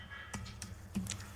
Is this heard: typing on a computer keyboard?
yes